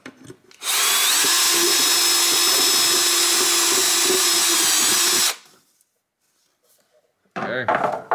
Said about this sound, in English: and I'll drill through.